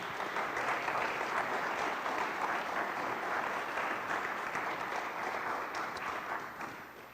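Sustained, full-room applause for city officials in Winston-Salem at a song showcase, even and loud for seven seconds before starting to taper.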